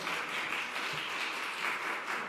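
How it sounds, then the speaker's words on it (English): A church congregation applauds during a Sunday service, a soft, steady wash of clapping from a crowd that holds evenly for a couple of seconds at a fairly low level. "I think that deserves some applause, don't you?"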